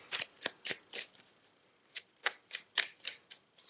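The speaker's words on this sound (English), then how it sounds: "3 more shuffles." Tarot cards riffle and snap in a quick series of crisp bursts, about a dozen short shuffles close up, with no talking.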